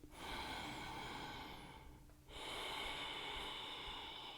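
Steady, deep breathing during a strong vinyasa yoga flow with a twisting pose, a long loud exhale, a short pause, then another sustained breath close to the mic.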